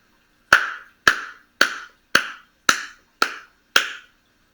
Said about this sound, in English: Let's clap that rhythm together.